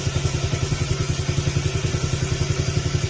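A Honda Click 125/150 scooter engine runs at a steady idle nearby, a rapid even putter with a regular pulsing beat and no talk over it.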